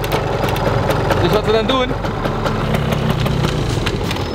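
A hot-wired 180cc Thunder Runner scooter engine idles close by with a steady low rumble, while someone talks over it.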